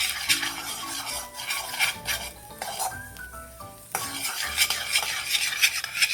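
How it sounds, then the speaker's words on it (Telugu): Sesame seeds roasting in a pan, stirred continuously with a constant scraping, rattling sound of a utensil against the metal. A faint tonal background runs underneath. "చక్కగా బాగా వేపుకోవాలి."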